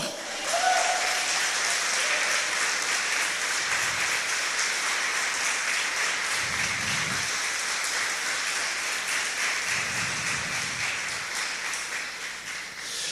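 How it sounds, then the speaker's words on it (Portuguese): A church congregation claps loudly and continuously in a sustained wave of applause that slowly tapers toward the end, with a few low thumps underneath. "Aplauda ao Senhor."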